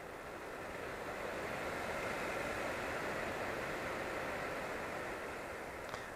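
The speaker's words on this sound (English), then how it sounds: "I'll probably leave it on regular low for a while, since that creates a nice little white noise" A Mooka air purifier running on its low setting gives a steady, even fan hiss with no change in level, soft and close, alone in a quiet room.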